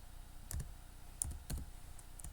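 Keys tapped on a computer keyboard while Python loop code is entered, a few soft separate clicks at an irregular pace, close and quiet, with no talking.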